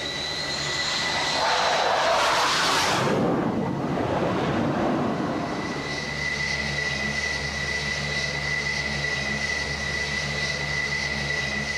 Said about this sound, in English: Another plane must be guided to the ship.